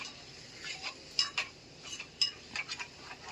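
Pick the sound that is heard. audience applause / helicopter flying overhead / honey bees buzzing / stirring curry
stirring curry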